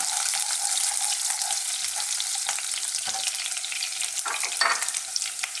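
Roughly chopped thick garlic stir-frying in a hot wok, a close, bright sizzle with scraping and tossing noises from stirring, steady and unbroken.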